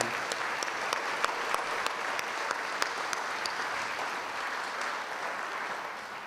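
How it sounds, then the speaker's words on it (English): Steady audience applause fills a hall during a veterans' hall of fame induction ceremony, a dense wash of many hands clapping for the whole six seconds with a few sharper individual claps standing out. "Let's give another round of applause for Sean."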